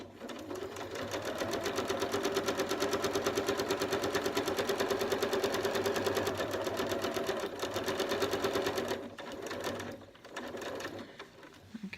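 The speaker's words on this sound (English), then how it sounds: "I'm going to start sewing again" A sewing machine stitches bias binding in a fast, rhythmic, close-up run lasting several seconds, then slows and stops, followed by brief short bursts of stitching.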